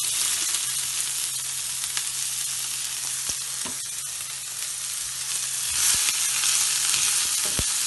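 Chopped onion sizzles in hot oil with bay leaves, cardamom and ajwain while a rajma dish is being started. The frying is steady and close, with a few sharp stirring clicks and no voices.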